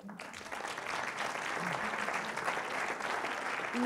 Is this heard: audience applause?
yes